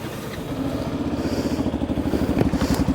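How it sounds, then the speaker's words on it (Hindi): A Yamaha FZX motorcycle exhaust idles close by with a steady, throbbing beat, the pulses growing slightly stronger and more pronounced as it runs, with no talk over it. "जो एक इसका जो एग्जॉस्ट साउंड है वो भी मुझे काफ़ी अच्छा लगता है। चलिए सुना के दिखाई देता हूँ आपको एग्जॉस्ट।"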